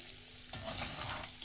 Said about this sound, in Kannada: ಅರಿಶಿನೂ ಹುರಿಬೇಕು ಚೆಂದಾಗೆ